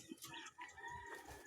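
Hens and young roosters in a small backyard chicken coop cluck in short, scattered calls, fairly faint and close, with a brief crow-like note among them and no voices.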